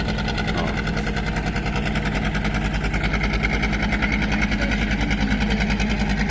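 A steady boat engine drones close by on a river, low and constant with a rhythmic throb, running continuously without pause.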